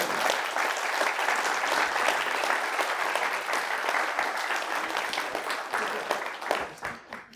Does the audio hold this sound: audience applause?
yes